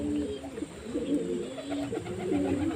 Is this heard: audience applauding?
no